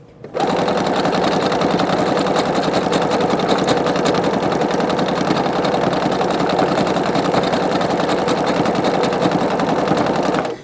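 A Singer Quantum Stylist 9960 sewing machine stitches with metallic thread, running continuously at a steady fast rhythm for about ten seconds, loud and close with a rapid mechanical clatter.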